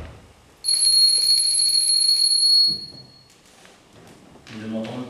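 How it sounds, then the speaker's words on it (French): A handbell rings with a bright metallic peal for about two seconds, fairly loud and close, on a theatre stage; a voice speaks briefly afterward. "la sonnette ne fait pas assez de bruit"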